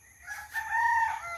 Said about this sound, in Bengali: মোরগ ডাকছে মুরগা।